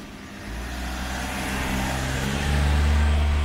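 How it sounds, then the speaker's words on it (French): A car drives past on a mountain road in Japan, its engine rumble swelling steadily and peaking near the end as it comes close. "il y a une voiture qui passe"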